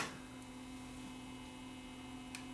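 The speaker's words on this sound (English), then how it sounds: "The tubes are warming. I can hear a hum from it." Steady low mains hum from a warming Pye P75 vintage tube radio with a failed tube that has lost its vacuum, a faint continuous drone holding level throughout, with a couple of tiny clicks.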